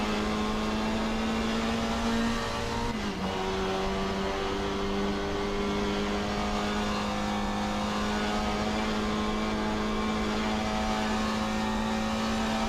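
A vintage race car engine drones steadily at Goodwood in Assetto Corsa, a loud close sustained tone with one brief dip as the driver lifts off the throttle, then holding high again, no voices.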